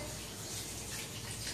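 Water pours into a crock pot in a steady, hissing stream, close and continuous for a moment with no talking.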